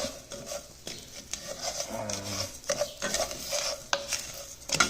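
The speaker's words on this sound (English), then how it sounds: "you gotta constantly stir this. Don't stop." Constant stirring in a pan during cooking, with repeated scraping and clinking of a utensil against cookware over a soft sizzle, close and steady without speech.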